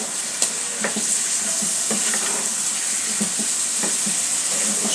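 Papaya pieces stir-fried in a hot pan give a steady, dense sizzle with scattered scraping and clinking from stirring, close and continuous throughout.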